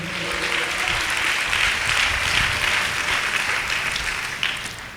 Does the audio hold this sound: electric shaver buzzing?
no